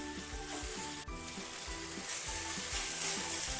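One kilo of washed chicken pieces drops into tomato masala for pepper chicken and is stirred, the pan sizzling steadily with a sharp thud as the meat lands and the frying growing louder afterward.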